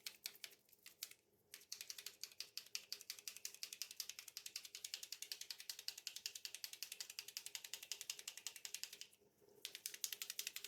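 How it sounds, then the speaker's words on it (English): An acrylic paint marker pen shaken hard, its mixing ball rattling in a fast, steady clicking rhythm close up, with two brief pauses, quiet overall. "Especially since that was kind of froze up, you really want to make sure you shake that good."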